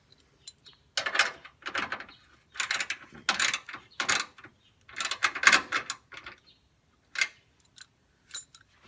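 A wrench tightens a replacement horn on a VW Vanagon, giving close, loud bursts of ratcheting clicks in uneven runs separated by short pauses.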